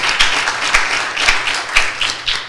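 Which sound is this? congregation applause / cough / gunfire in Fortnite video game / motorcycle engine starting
congregation applause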